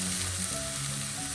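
Boiled sweet potato pieces are stirred into masala sizzling in a pan, giving a brief steady hiss of frying with faint mechanical scraping underneath and no voices.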